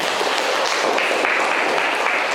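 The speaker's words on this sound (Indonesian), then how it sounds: "Nah, itu tepuk tangan dulu." A classroom of students applauds, dense continuous clapping that holds steady and loud throughout.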